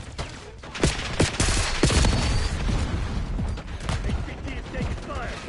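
Gunfire in a military shooter video game, bursts of rapid shots and sharp cracks over a busy battle din, with brief radio-style voices mixed in.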